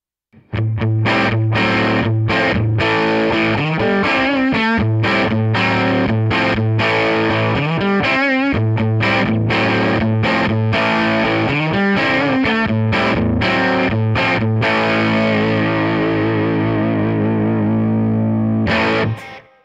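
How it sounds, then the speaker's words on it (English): Heavily distorted electric guitar through a Line 6 amp set as a modern high-gain tube amplifier, chugging palm-muted riffs and crunchy power chords, loud and continuous, closing on a sustained chord that cuts off. "what we have is a modern high gain tube reconfiguration"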